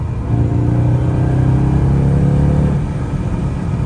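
A 1959 Mercedes? No: a Mercedes R129 SL500 with the 5.0 M119 V8 and a new AMG muffler revs and holds near 3,000 rpm, a deep, loud, steady exhaust rumble that eases off toward the end.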